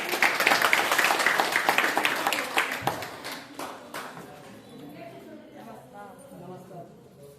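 An audience at a village company gathering claps loudly at first, a quick rhythmic patter of many hands that thins out and fades, leaving scattered claps and murmuring voices toward the end.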